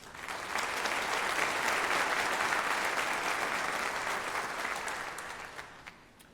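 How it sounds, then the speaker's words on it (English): At Troy University's honors convocation, an audience applauds distinguished students: a full hall of clapping rises quickly, holds steady, then thins out and fades near the end. "Let's take a moment to applaud the distinguished students."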